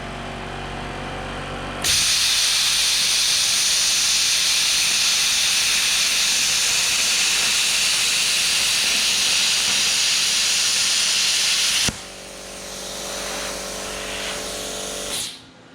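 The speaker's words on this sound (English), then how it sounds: "we're going to make a few cuts with the onboard compressor and see how well it keeps up cutting thick steel" Plasma cutter with onboard air compressor slicing through quarter-inch steel plate: a loud, steady hiss of air and arc begins abruptly, holds for about ten seconds, then drops to a softer rush and cuts off, with no talking.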